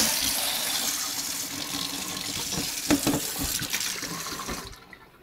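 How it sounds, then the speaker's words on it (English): Water runs steadily from a kitchen sink tap, a close, continuous hissing splash that shifts slightly as the flow changes, then cuts off abruptly near the end. "I may get some water though."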